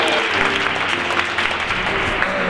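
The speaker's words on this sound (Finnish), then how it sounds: "Hyvä aplodit." Audience applause at a Finnish Christmas porridge party, a steady dense wash of clapping from a crowd, loud and close throughout without a break.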